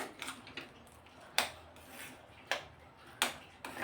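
A utensil mixes mango pulp into puran filling in a cooking pan, making a soft continuous scraping with several sharp metallic clinks against the pan at irregular intervals, close up.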